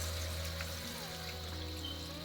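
Hot water pours into a pot of browned goat meat being cooked for Jamaican curried goat, a soft, steady stream running quietly and continuously with no talking.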